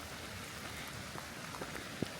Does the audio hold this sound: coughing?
no